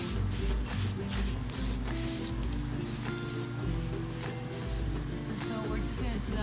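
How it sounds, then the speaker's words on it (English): Aerosol spray paint hissing steadily onto a peacock-style wicker chair, a continuous close, loud spray over a low background hum with no pauses. "So this is where it's been spray painted at, right here"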